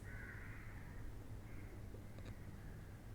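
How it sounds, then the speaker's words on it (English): Crows cawing after midnight, a few faint, distant calls over steady low background hum, with no one talking. "There are a lot of crows that I can hear at this point of time, even though it's post midnight that I'm recording this video"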